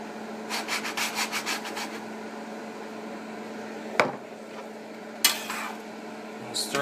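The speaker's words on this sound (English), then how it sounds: "Stir that in." Bolognese sauce is stirred in a pan with a steady rhythmic scraping and rubbing, followed by quieter stretches with a couple of sharp knocks against the pan.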